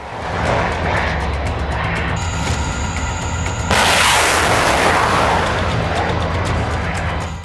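A combined-arms live-fire military exercise with Indonesian, American, Australian, Japanese and Singaporean forces produces loud, dense booms of artillery and gunfire that blend into a continuous rumbling roar, with a brief whine running through the middle.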